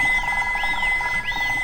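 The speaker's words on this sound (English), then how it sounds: "Dr. Hamster's phone rings for a fourth time." A cartoon phone rings in three repeated electronic chirping trills, steady and moderately loud, each rising and falling at an even pace.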